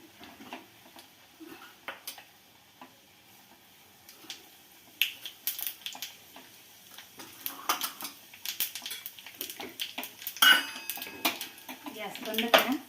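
Cumin seeds are tipped into a pan and stirred with a metal utensil, making quiet scattered clinks and scrapes that grow busier and louder toward the end.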